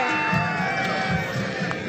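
A crowd of people outdoors in Dubai shouts and cheers in a continuous lively din, with overlapping voices throughout.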